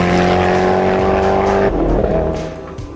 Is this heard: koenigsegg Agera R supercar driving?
yes